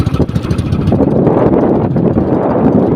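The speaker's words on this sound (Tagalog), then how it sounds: "malakas-lakas yung hangin." Strong wind buffets the microphone in a loud, continuous rumble with gusty surges throughout, and no voices.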